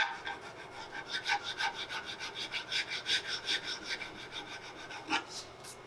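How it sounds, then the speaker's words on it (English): Steady rhythmic rasping of sandpaper on a sanding block against the wooden stock of a rifle kit, quick back-and-forth strokes repeating evenly at close range with no talking. "or even coarse paper around a sanding block will work great too"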